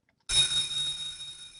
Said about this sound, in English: I hear the sound of a bell again.